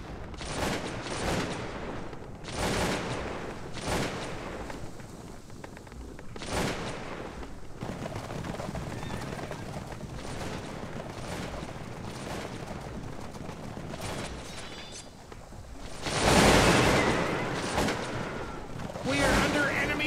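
Battle gunfire in the strategy video game Cossacks 2, with repeated musket volleys and cannon booms bursting irregularly over a continuous battle din, one heavy blast near the end, and game voice announcements at times.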